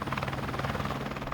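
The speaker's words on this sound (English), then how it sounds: "This helicopter a brand new asset for Tasmania this fire season." A helicopter, a new firefighting asset flying over fires in Tasmania, gives a steady rapid rotor chop with a broad engine roar. The sound stays constant throughout, with no voices.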